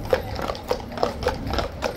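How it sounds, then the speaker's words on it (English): Hooves of two police horses clip-clop on a city street near the Guard change, a steady run of about six distinct strikes over constant outdoor background noise, with no talking. "Look how unusual these two horses are."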